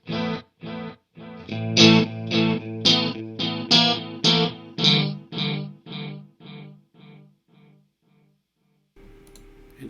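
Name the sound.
guitar through Timeline echo effect pedal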